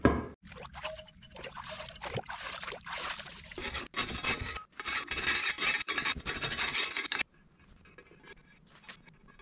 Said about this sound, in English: Everything you're hearing is just the impeller hitting little bits of rust